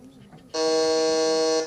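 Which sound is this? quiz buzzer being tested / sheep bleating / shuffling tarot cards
quiz buzzer being tested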